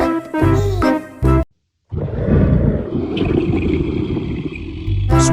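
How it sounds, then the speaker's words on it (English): A tiger gives a long, loud, rough roar lasting several seconds, following a brief spoken word and a short pause. "Tiger."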